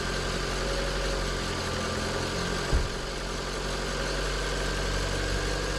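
A car engine idles steadily after a successful start in freezing winter weather, following a jump from a portable power bank; a low, even hum holds throughout with one brief soft thump midway and no talking.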